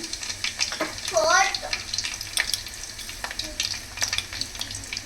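Four crushed garlic cloves sizzle and crackle in hot oil in a home kitchen, a steady frying hiss with a brief stirring scrape and clatter partway through.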